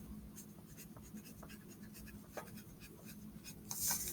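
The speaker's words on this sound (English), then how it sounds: "we need to make sure that we write our name with a black crayon or pencil clearly" A black crayon or pencil writes a name on paper, giving close, faint scratchy strokes in an irregular rhythm, with a brief louder rustle near the end.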